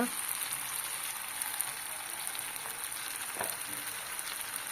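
Food frying in a pan with no added water, a steady dense sizzle with faint stirring clicks, close and continuous throughout.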